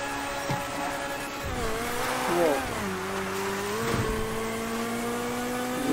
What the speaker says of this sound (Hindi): इसका टर्बो काफ़ी ज़्यादा दमदार है और ये साउंड भी इसका सबसे अलग है